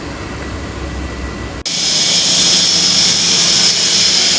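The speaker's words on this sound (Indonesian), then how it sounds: "Ini ada fan untuk hisap udara yang mau disirkulasikan." An air circulation fan inside a rubber vulcanizing autoclave starts with a sharp click, then settles into a loud, steady whirring hiss that holds constant.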